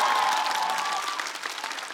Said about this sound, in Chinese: 场下掌声雷动，就像现在一样